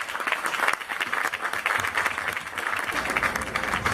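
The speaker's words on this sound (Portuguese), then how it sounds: "Uma salva de palmas para ambos, por favor" A round of applause for two honorees at a literary fair, FliPir 2019, as the crowd claps steadily and fairly loudly throughout.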